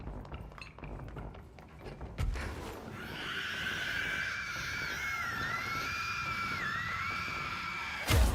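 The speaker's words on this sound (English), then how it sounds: "I hear more screeching. There's more." A creature's shrill, wavering screech rises out of a low rumbling background and holds for several seconds with sliding pitch, cut off by a thud, from enemies in the video game Control.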